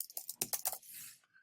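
Keys on a computer keyboard tapped in a quick burst of several clicks, close and fairly loud, followed by a brief softer hiss.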